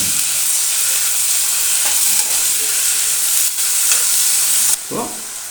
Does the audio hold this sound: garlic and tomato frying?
yes